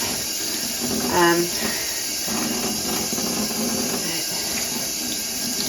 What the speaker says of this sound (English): So I'm going to just rinse this through a couple more times with some more soap